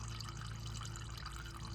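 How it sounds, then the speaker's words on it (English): Engine oil draining from a Bad Boy ZT Elite zero-turn mower into a bucket, a close, continuous liquid trickle with light dripping over a low steady hum, no speech. "Let it drip all the way out."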